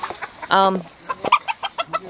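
An old hen clucks nearby in short, repeated bursts, with one longer drawn-out squawk near the start.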